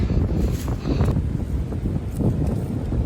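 Gusty, cold wind buffets the microphone high on the Appalachian Trail in Tennessee in a steady low rumble, rising and falling slightly with no one speaking.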